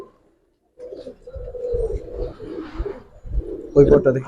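Giribaz pigeons, silver-coloured flock birds, coo in soft repeated rolling calls close by, with a louder burst near the end; someone talks over them.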